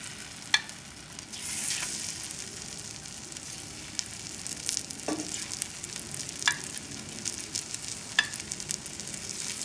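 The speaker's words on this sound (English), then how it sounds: "As you can see, the butter is browning slightly. Now we'll just place the shrimps in there." Shrimps frying in slightly browning butter in a pan over a raised flame, a steady soft sizzle with a louder burst near the start and a few faint clicks, no voices.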